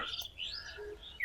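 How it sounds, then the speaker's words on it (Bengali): Birds chirp and tweet in quick, high bursts against a quiet village outdoor background, fairly faint and steady throughout. "পাখির কিচিরমিচিরটা চমৎকার লাগতেছে।"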